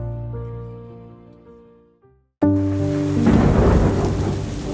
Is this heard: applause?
no